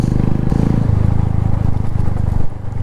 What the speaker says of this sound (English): The only thing I'm hearing right now is this SC project making that torquey sound right now